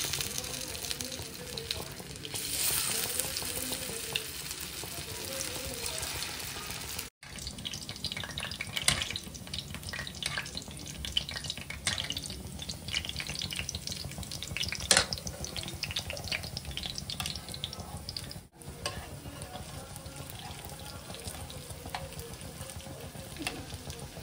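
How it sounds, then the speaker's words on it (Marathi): Hara bhara kebab tikkis shallow frying in hot oil in a pan, giving a steady, close sizzle with occasional crackles and a few soft clinks, with no talking throughout. "आता मी टिक्की घालणार आणि ते मी शॅलो फ्राय करत आहे"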